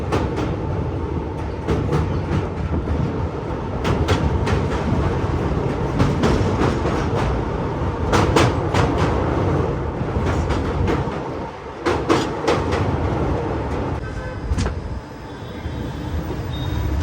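A train crosses the Narmada river bridge near Bharuch station, a steady heavy rumble with rhythmic clickety-clack of wheels on rails, heard from inside and continuing for many seconds.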